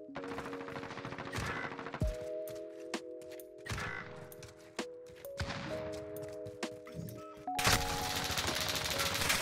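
Rapid automatic gunfire from a first-person shooter, Call of Duty Modern Warfare in Search and Destroy mode, crackling in dense repeated bursts over a steady tonal game background, with a sustained loud volley near the end.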